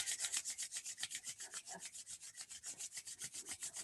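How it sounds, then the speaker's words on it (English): Palms of the hands rubbing briskly together, a quick, even series of dry swishing strokes, close and soft, with no talking. "let's finish by rubbing the palms together and creating some heat"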